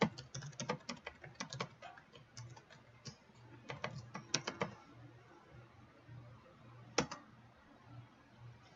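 Keys on a computer keyboard are tapped in short scattered bursts, a few rapid clicks at a time with pauses between, quiet and close with no voices.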